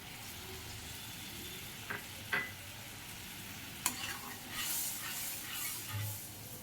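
A little water hits a frying pan and sizzles softly while being stirred, with faint steady hiss, a few sharp spoon taps and scrapes, quiet and close, no voices.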